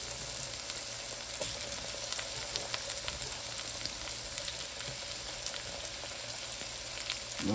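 Mushrooms sizzle on a dry griddle with no oil, making a steady, close hiss with scattered light crackles and pops throughout, alone without voices.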